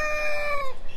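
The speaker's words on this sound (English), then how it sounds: "So, we have a lot of chickens." A rooster from a free-range flock of laying hens gives one short, close crow in a single drawn-out call.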